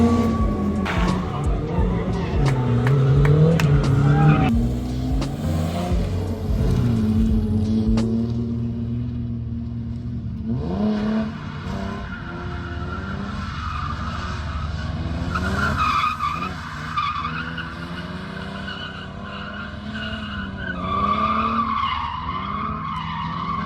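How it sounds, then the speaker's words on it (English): A Lexus GS300 with a 2JZ engine slides sideways on a track as a drift car, its engine roaring and its tires squealing in long sustained skids, loud and close. "we took Chris's GS300 out, and let's say that thing is an absolute boat, but it goes sideways"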